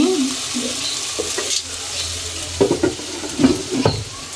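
Vegetables being sautéed in a pan, with a steady sizzle and frying hiss under repeated scraping stirs and a few clinks of the utensil against the pan, close up.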